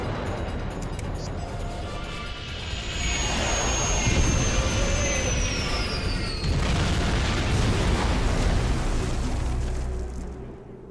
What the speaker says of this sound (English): Get us on the ground, Commander. Crash position. Brace for impact.